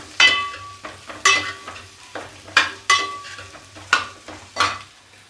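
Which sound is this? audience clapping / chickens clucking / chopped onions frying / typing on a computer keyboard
chopped onions frying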